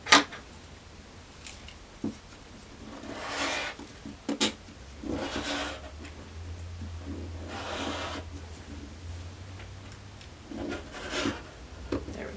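Scissors cut through folded quilting cotton, two layers at once, in a few bursts of crisp rasping snips with pauses of handling and rustling between, close and moderately quiet.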